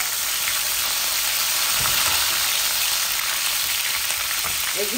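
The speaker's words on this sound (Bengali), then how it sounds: "এখন আমি এখানে 10-12টা রসুন দিয়ে দিচ্ছি" Frozen garlic cloves, ten to twelve of them, drop into hot oil already holding cumin, bay leaf and a dried chili, producing a loud, dense, continuous sizzle close by.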